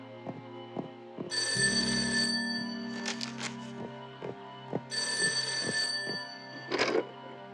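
An old-style telephone bell rings in two bursts, separated by a pause, with faint rustling and movement in between.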